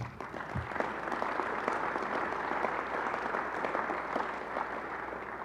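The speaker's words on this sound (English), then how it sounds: "I think that deserves a round of applause." Sustained audience applause at a mayor's State of the Government address, a dense steady wash of many hands clapping throughout, fairly distant and even in loudness, with no voices standing out.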